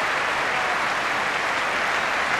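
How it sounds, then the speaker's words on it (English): A football crowd applauds around the ground at Newcastle United's end of season, a loud, dense, unbroken roar of clapping throughout. "Tremendous applause all around the ground."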